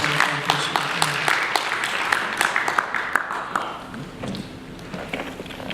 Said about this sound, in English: I'd like to give a big round of applause to Helpline